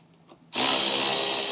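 A power tool starts abruptly and runs at a steady, loud whir while taking out screws on a 2024 Jeep Grand Cherokee during a base plate install, with faint clicks before it kicks in.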